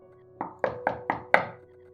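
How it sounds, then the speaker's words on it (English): Five hard, evenly spaced knocks pound on a dorm room door, each a loud, resonant thud at close range with a short ring after it, and no voice heard. "kept pounding on the door"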